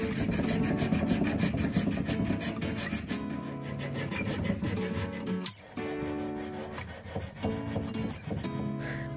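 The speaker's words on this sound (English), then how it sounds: "This is the most underrated sanding tool that there is out there. These hand grips are amazing." Hand sanding of bare wood furniture with a hand-grip sanding tool, a continuous rasping scrub of repeated strokes along curved surfaces, close and fairly loud throughout with no talking.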